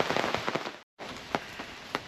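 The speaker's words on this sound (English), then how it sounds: "It's still raining." Steady rain patters on a motorhome awning in a dense, continuous hiss with scattered louder drops, broken by a brief dropout of silence partway through.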